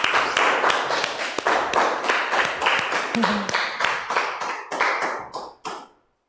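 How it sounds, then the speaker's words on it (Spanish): Participants in a home dance workout routine clap together at the end of a session. Loud, close, fairly rhythmic handclaps in quick succession gradually thin out before stopping abruptly, with a brief voice heard midway. "Un aplauso."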